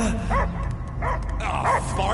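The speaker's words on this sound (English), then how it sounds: "I hear only barking." Dog barking in the video game Guardians of the Galaxy: three short yelping barks spaced across the moment, mid-distance, layered over a low game score with voices around them.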